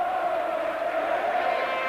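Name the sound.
rugby league crowd cheering after Workington Town win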